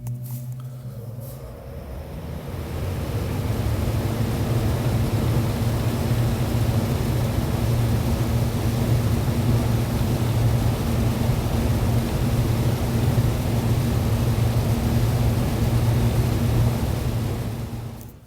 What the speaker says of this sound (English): You can hear the fan pretty good right there.